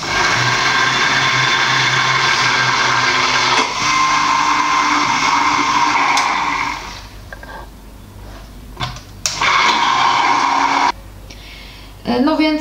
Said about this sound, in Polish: Ja oczywiście użyję mojego blendera, bo nie chcę spędzić tu paru godzin mieszając.